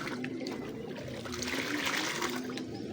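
Water being mixed with ginger garlic paste for pigeons at a Lahore bird loft, a steady trickling and sloshing liquid sound running continuously at moderate level without talk.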